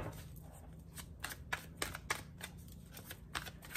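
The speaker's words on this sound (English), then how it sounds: "Let me shuffle one more time." Tarot cards being shuffled by hand, a quiet run of crisp riffling flutters and soft slaps in quick irregular bursts, close and alone.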